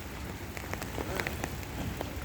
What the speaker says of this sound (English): you can see me with an umbrella because it's raining lightly